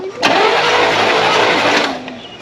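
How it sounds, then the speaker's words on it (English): An old Oldsmobile engine, unused for 15 years, cranks and catches, then runs with a loud, rough mid-pitched roar for a couple of seconds before easing off. "Did you hear the motor turn over?"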